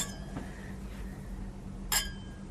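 Glasses clink once in a breakfast toast in a garden in Ohrid, North Macedonia, a single bright, short chime near the end following a fainter tap, against quiet outdoor background.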